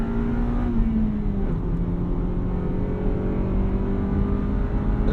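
A 1999 Honda Civic Si (EM1) driven on the road, its engine droning steadily from inside the cabin with a slight pitch shift, under constant road and wind rumble, no voices.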